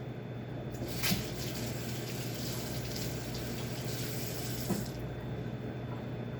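Celery being washed under a running kitchen tap in a sink, a steady close rush of water with a couple of faint knocks as the stalks are handled.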